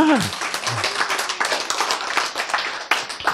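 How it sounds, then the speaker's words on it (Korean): Lecture-hall listeners at a talk on healthy eating clap briefly, a light, scattered flurry of hand claps that follows a short spoken word at the start and continues unevenly for a few seconds. "예, 박수."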